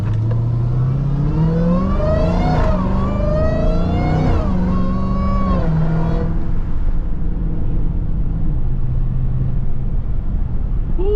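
A supercharged Dodge Charger Hellcat engine revs up with a rising mechanical whine that climbs and falls in pitch, loud and steady, then settles into a lower hum, in morning traffic.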